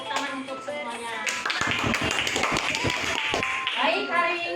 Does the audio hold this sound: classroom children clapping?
yes